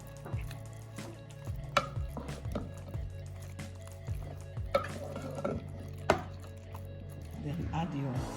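Ugba oil bean salad with cow skin is stirred in a bowl, giving soft, wet squishing and scraping strokes at a steady pace with occasional sharp clinks, close and fairly quiet, along with a low background hum.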